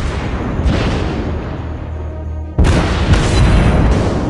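Loud game explosions from dive bomber strikes on an enemy ship in World of Warships, a continuous rumbling roar that jumps to a sharper, heavier blast partway through, with no talking.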